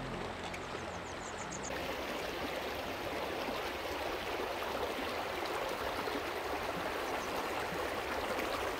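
River flowing over stones near a gold-bearing area, a steady broadband rushing and babbling of water, close and constant throughout with no voices.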